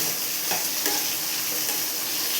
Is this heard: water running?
no